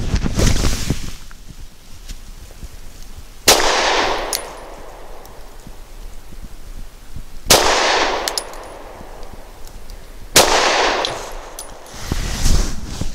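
Sig P365 XL pistol firing Inceptor 65 grain copper polymer round-nose rounds outdoors: three sharp, loud, separate shots spaced a few seconds apart, each with a ringing decay, over steady wind noise.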